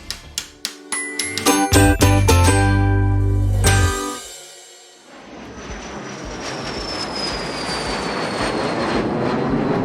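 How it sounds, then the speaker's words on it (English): Chiming musical notes ring briefly before an airplane's jet engine takes over as a steady, broad roar with a thin whine climbing in pitch, growing slowly louder. "So, I hopped on a plane to London,"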